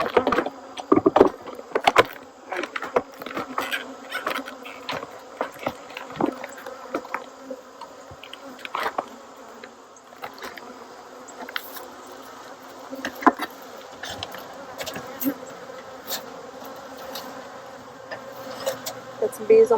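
Honeybees swarm and hum around a populated hive from a recent split, outdoors in Tennessee in October, a dense, steady buzz heard up close with individual bees droning past.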